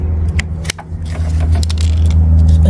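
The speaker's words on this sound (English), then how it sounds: "And now we remove the pins." Metal brake pad pins on a Suzuki Burgman K7 front brake clink and scrape as they are worked loose and pulled out, close sharp metallic ticks over a low steady hum, no talk.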